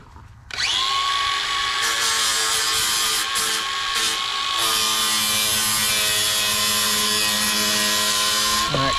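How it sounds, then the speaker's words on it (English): A power grinder spins up abruptly and runs steadily at a high, harmonic whine, loud and close, with slight dips in pitch as it bites into metal, smoothing a sharp edge on a trailer spare tire carrier. "now I'm gonna take a grinder and we're gonna clean up that backside so it ain't sharp"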